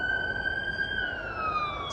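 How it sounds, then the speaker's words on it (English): A fire truck siren wails in a steady rising-and-falling tone as it passes a residential street. It sounds moderately close and continuous, with no talk over it. "There is a fire truck coming through."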